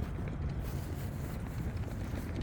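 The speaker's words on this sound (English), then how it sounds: "It's so windy in this city." Steady, rushing wind in downtown Halifax, Nova Scotia, buffeting the microphone, a dense low roar throughout with no voices.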